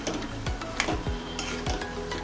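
Mashed boiled potatoes being stirred with masala in a hot pan for vada pav filling, a loud close sizzle with several distinct spoon scrapes and knocks against the pan.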